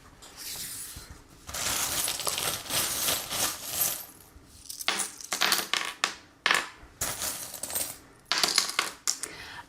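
Fortune-telling charms are shaken and cast onto a surface, giving bursts of bright metallic clinking and rattling, first in longer jingling runs and then in several short separate tosses, close and fairly loud with no talking.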